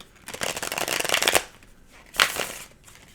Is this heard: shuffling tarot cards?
yes